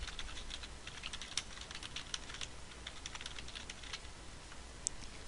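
Someone types a folder name on a computer keyboard in quick, light clusters of clicks with short pauses between bursts, close and quiet, with no talking.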